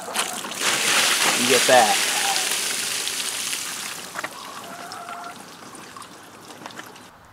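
Water pours and splashes out of a tipped Titan Deep Freeze 50-can cooler, a loud rushing gush that trickles off and fades, with a person speaking briefly over it.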